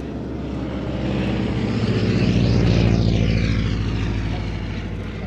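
A biplane's propeller engine at an air show drones past, swelling to a loud close roar and then fading, with a strong Doppler-like sweep.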